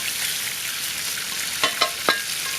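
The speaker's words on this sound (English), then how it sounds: "our water's boiling already" Water boils in a cooking pot with a steady, close bubbling hiss, broken near the end by a few sharp pops.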